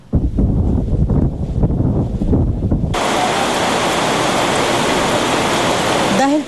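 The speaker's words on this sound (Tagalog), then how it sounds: "patuloy na nakararanas ng pabugso-bugsong pagbayo ng malakas na hangin si Bagyong Dindo" Strong gusty wind from a typhoon lashing Santa Ana, Cagayan, loud and roaring against the microphone after a reporter speaks over rumbling noise at first, then a steady broadband howl.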